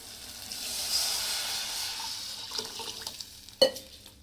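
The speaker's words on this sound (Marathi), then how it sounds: "मी याच्यामध्ये आता 1 लिटर पाणी टाकते" Water from a one-litre copper pot poured into fish curry masala simmering in oil for rohu fish rassa, a soft hiss and splash building through the pour with a sharp clank near the end.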